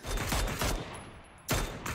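Video game gunfire crackles in a few quick bursts of automatic shots, loud and close, with a brief pause before a final volley.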